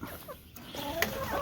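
Backyard chickens clucking and calling in short bursts, fairly close, with scratching and digging in rocky ground around them and no talk.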